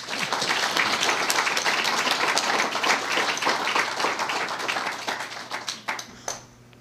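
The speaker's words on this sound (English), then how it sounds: "Let's welcome and give a warm applause." A warm round of applause welcomes a presenter at a Pecha Kucha event in Longmont, with close, dense clapping from the audience that holds steady, then breaks into scattered claps and fades out near the end.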